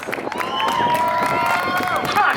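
Crowd at a pin-up pageant at Colby Cheese Days in Wisconsin cheering and applauding a contestant, a steady wash of clapping and whoops with a host's voice carrying over it.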